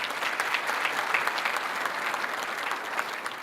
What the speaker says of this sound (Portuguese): eu agradeço Edson, palmas novamente.